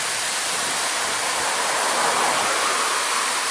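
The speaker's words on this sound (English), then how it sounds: "Rather picturesque weir there." Steady broadband rush of water pouring over a river weir at the south end of Bacup on the River Irwell, continuous and fairly loud with no voices.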